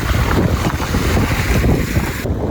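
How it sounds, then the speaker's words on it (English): Strong wind of around 65 mph roars steadily across a lake, heard from a boat with loud, continuous buffeting wind noise on the microphone and water churning below, no talking. "65-mile-an-hour wind right now"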